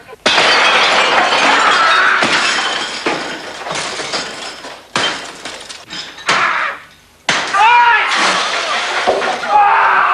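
Glass smashes loudly and repeatedly, with crashing breaks and tinkling shards following one another over several seconds, up close.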